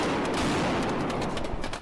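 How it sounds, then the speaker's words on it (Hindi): Firecrackers are set off by protesting teachers at police, a rapid crackling burst of pops running throughout with no voices. "उन्होंने भी पुलिस वालों पर पटाखे छोड़ने शुरू कर दिए।"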